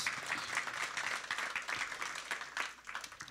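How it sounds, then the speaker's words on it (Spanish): A church congregation applauds in a faint, uneven patter of clapping, heard at a distance with a loose rhythm. "Give him a big round of applause."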